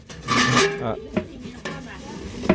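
A metal pot lid handled and set down on a pot over a smokeless stove outdoors, with a few clattering knocks and scrapes, the sharpest one at the end.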